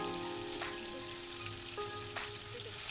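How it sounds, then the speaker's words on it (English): Onion ginger garlic paste frying with cardamom, cloves and spices in a pan for a fish kofta curry, giving a steady close sizzle and crackle throughout, with a few faint tonal clinks over it. "Fry them until the raw taste goes away."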